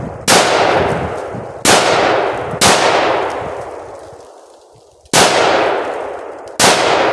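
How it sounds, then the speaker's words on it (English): A .223 rifle fires into a bucket holding three plywood boards. Five loud, sharp reports come at uneven gaps outdoors, and each rings with a metallic clang that fades slowly. "I'm gonna put 3 plywoods in the bucket and shoot it with 223 and see how this moves."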